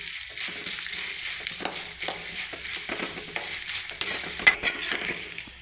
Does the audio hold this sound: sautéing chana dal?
yes